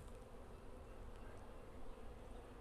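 Honey bees buzz around an open hive that is nearly full, a dense, steady droning hum of many insects close by, with no speech.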